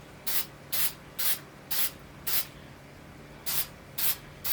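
Spray paint hisses out of a can in seven short, evenly spaced bursts, each a sharp close puff of spray separated by brief quiet gaps.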